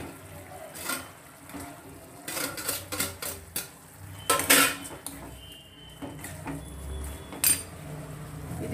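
Fried eggplant mixture for badanekai gojju being stirred in a pan, with repeated metal spoon scrapes and clinks against the pan in irregular bursts, fairly close and moderately quiet, no talk.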